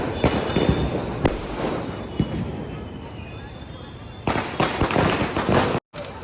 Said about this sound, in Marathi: फटाकडे बॉम्ब फोडताना आनंद घेताना दिसतो